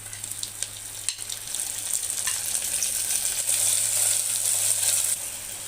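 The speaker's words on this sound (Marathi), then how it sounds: "तर ते टोमॅटो व्यवस्थित परतून होतोय" A chopped tomato sautés in a pan with garam masala for mutton paya soup. A soft, steady sizzle runs throughout, broken by a few light stirring scrapes.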